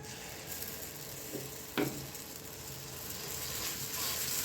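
Beetroot dosa batter poured onto a hot pan, giving a soft steady sizzle with a couple of brief scraping clicks partway through and the frying hiss swelling slightly toward the end.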